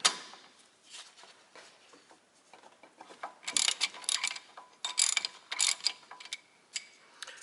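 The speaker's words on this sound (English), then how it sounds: "now I can take the hub bolts off. 13mm 12-point socket." A ratchet fitted with a 13mm 12-point socket loosens the hub bolts on a 1995 Jeep Cherokee XJ during a front U-joint replacement, giving close, crisp clicking bursts in uneven runs with short pauses and no talk.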